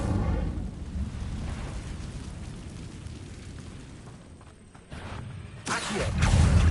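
An Incendio fire spell is cast in Hogwarts Legacy, bursting with a loud low roar of flame that eases into a crackling rumble and then swells again at the end.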